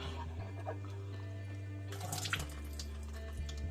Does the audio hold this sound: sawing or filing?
no